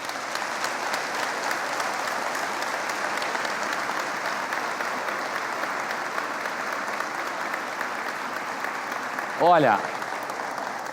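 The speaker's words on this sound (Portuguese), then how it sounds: "Vamos aplaudir esse pessoal" Church congregation applauding the Geração group, a steady, moderately distant wash of many hands clapping without pause, with a short spoken word near the end.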